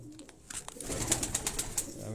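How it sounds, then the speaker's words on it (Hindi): High-flying pigeons at a loft in Quetta coo softly and repeatedly, fairly close, over faint background rustling. "उनके यहाँ के ये हाई फ्लाइंग पिजन जो हैं"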